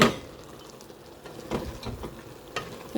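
Bean curry being stirred in a pot, a soft sizzle with a few scraping, knocking spoon strokes against the pan at irregular intervals.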